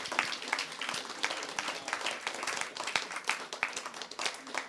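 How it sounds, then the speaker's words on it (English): Steady audience applause at an education-for-sustainability discussion event, a dense wash of many hands clapping at moderate distance, continuous and fairly even throughout with no voices standing out. "big thanks and big applause to you, our audience"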